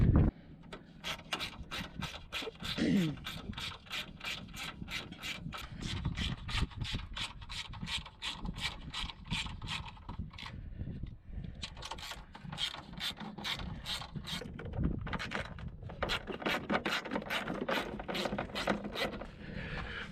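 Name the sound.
removing headlight assembly bolts on Ford F250 truck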